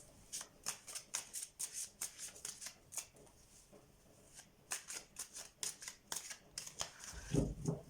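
Tarot cards are shuffled close up in quick riffling bursts of sharp, papery flicks, with a short lull midway before the shuffling resumes.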